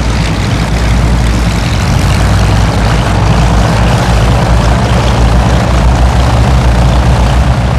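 Avro Shackleton piston engines and propellers roaring from inside the aircraft, a loud, dense, unbroken low drone with a throbbing pulse that fills the whole stretch.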